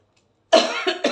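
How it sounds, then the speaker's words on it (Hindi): A woman gives a short burst of two or three close coughs after a moment of silence. "ये खांसी पता नहीं कब मेरा पीछा छोड़ेगी"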